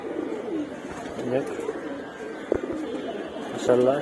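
Pigeons at a sky loft coo in soft, repeated rolling calls, close by and fairly faint, with a brief knock partway through and people talking over the birds.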